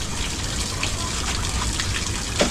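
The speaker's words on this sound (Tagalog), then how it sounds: "Anda ng shower." A shower runs with a close, steady gush of water that holds constant throughout the short stretch, one faint brief sound at the end.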